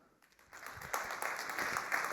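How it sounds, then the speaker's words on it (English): An audience at a sustainable enterprise panel at the 2022 SME Assembly breaks into applause for a panel speaker. It starts as thin scattered claps, then swells after half a second into a steady, dense round. "Please clap for Karolina Iva."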